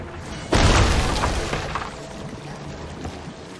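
A skeleton ship attacks the player's ship in Sea of Thieves, landing a sudden loud crashing impact that fades into a long, rumbling roar with scattered debris and creaks.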